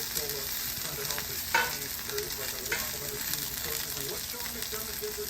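Onions fry with hamburger in a pan, giving a steady close sizzle and crackle with occasional stirring scrapes and no voices.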